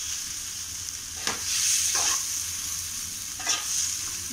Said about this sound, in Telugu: దుంపలకి కారం అవన్నీ బాగా పచ్చిన వరకు కొద్దిసేపు ఇలా ఫ్రై చేద్దామండి